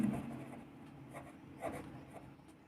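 Numbers written by hand on a board during a fifth-grade maths lesson, heard as a few soft scratchy strokes and taps, close and quiet, with no voice over them.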